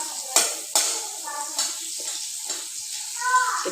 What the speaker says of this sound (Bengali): আমি ততক্ষণে একবার পেঁয়াজ নেড়ে নিলাম